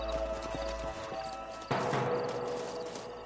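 Horses in the Western video game Red Dead Redemption clop along with hoofbeats and a whinny, set against a steady outdoor ambience that swells partway through.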